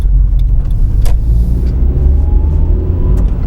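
Manual car driving in traffic, a steady loud low engine and road rumble inside the cabin with a few small clicks from gear changes, continuous throughout.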